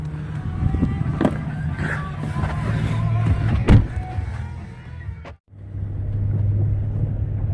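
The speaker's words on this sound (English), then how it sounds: "Let's go for a drive in the snow." A Chevy Silverado HD pickup drives through a snowstorm over about six inches of fresh snow, its engine giving a steady low rumble close by. The sound briefly cuts out near the end, then the rumble resumes.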